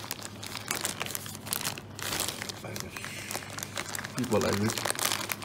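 Paper wrapping being crumpled and crinkled while unboxing a silver coin, continuous close rustling that runs under a man's speech throughout.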